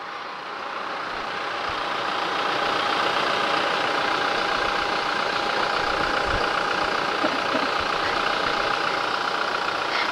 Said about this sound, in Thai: นี่เสียงเครื่องยนต์นะคะ